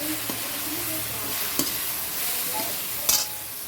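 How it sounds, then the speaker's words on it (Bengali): Spice paste for Bengali chicken chaap fries in a pan while being stirred, a steady close sizzle broken by a few sharp scrapes and clinks of the spoon against the pan. "ভালো করে একটু কষিয়ে নিই"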